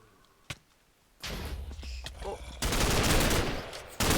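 A bomb blasts through a wall in the video game Minecraft: a sudden loud burst of noise follows a quiet stretch, then a second, louder roar that holds for over a second and swells again at the end.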